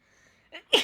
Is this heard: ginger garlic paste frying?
no